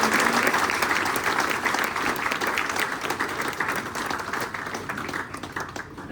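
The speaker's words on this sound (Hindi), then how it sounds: "कृपया एक बार जोरदार तालियां।" At a railway retirement ceremony, an audience breaks into loud, sustained applause, many hands clapping in a thick, continuous roar that eases slightly over six seconds.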